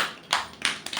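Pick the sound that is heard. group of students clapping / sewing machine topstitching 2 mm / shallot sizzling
group of students clapping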